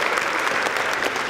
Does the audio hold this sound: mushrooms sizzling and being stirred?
no